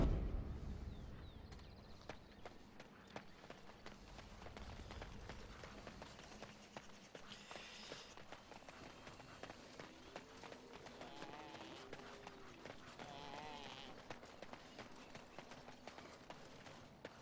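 Horse hooves gallop in Dragon Age: Origins, set in the Brecilian Forest, as a quick, steady run of soft thuds at moderate distance under faint ambient game sound, with a few brief voice murmurs.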